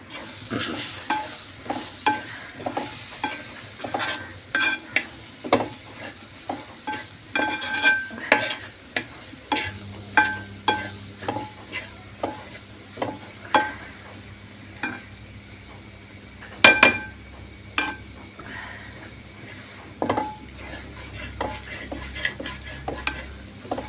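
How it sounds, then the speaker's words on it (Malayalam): Spices hit sautéed onions in hot oil in a cast-iron pan for chicken biryani, giving a steady soft sizzle under a rhythm of repeated spoon-stirring scrapes and clinks, fairly close. "അതിനകത്തേക്ക് നമ്മൾ എടുത്തു വെച്ച മസാലകൾ ഇട്ട് കൊടുക്കുകയാണേ"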